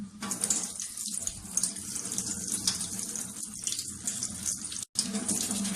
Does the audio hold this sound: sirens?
no